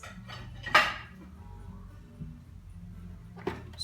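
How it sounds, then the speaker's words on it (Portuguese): An electric mixer being lifted out of a bowl of cantuccini batter, with a sharp metallic clank against the bowl and a few softer knocks afterward in a quiet kitchen. "Vamos tirar a batedeira,"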